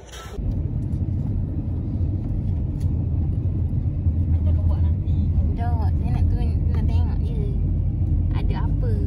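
A water tanker lorry passes nearby with a steady low engine rumble that swells and holds; people talk now and then over the traffic noise.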